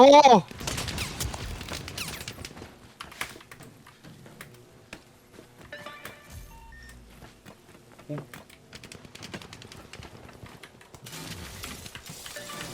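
Revolver fire in the shooter game The Finals, a few sharp, separated shots among scattered clicks and game noise, with people talking over parts of it.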